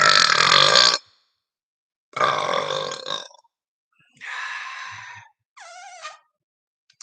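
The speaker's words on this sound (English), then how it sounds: "long burps are the best" Four long, loud burps come one after another, each lasting about a second, with short silent gaps between them. The last one is shorter and has a wavering, rising pitch.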